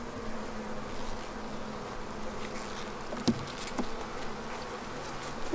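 Honey bees hum in a steady, dense drone during the year's first beehive inspection, a close swarm sound with a couple of faint clicks and knocks from handling the hive.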